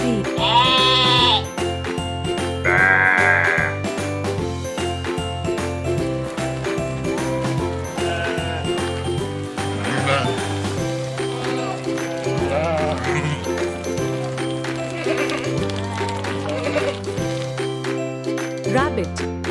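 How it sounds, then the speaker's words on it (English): Sheep bleating in short repeated calls, set within a steady musical backing with jingling, as one entry in a spoken animal-name vocabulary list. "SHEEP."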